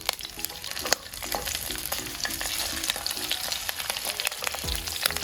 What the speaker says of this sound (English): now that these prawns are just cooking away